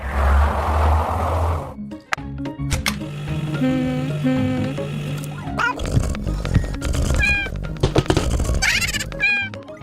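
A cat meows several times in quick, rising and falling cries, loud and close, mixed with small thunks and knocks from a miniature kitchen setup and bits of voice.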